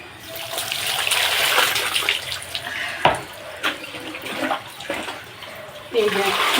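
Water splashes and pours in broken surges during a bath on a hot day, with a steady running rush and sharper splashes near three and six seconds; a voice is faintly mixed in.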